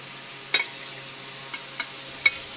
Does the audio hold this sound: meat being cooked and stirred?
yes